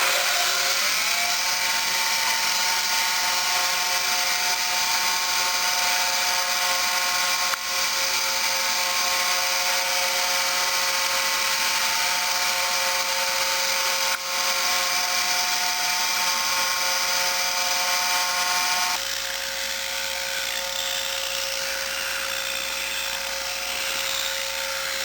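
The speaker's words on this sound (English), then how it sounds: "I'm going to be using to sand down the edge of this is I'm going to be using this grinder" An electric grinder runs steadily, sanding down the edge of a homemade screwdriver for opening Nintendo game cartridges, a loud continuous high whine with two brief dips and a slight drop in pitch near the end.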